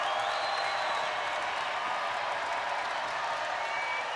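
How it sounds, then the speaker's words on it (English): A loud basketball arena crowd roars and cheers without pause at an NC State versus Clemson game, a dense, steady wall of voices that fills the whole space. "Crowd is as loud as it has been here this afternoon."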